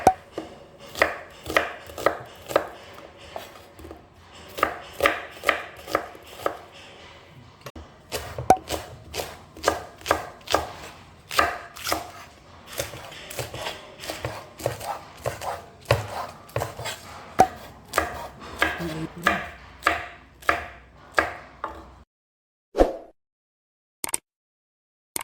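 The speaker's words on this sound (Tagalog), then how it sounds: "hiwain muna natin ang ating mga ingredients" Ingredients for kimchi jjim, including pork, being chopped with a knife on a board, firm rhythmic strokes in quick close bursts with brief pauses, running long and ending in a few last isolated chops.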